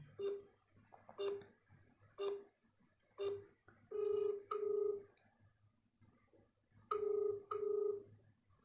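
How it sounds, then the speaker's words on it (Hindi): An outgoing phone call on speakerphone through the Google dialer app produces a run of short electronic telephone tones, evenly spaced at first and then in longer paired bursts, with quiet gaps between them. "तो चलिए इसको फ़ोन करते हैं"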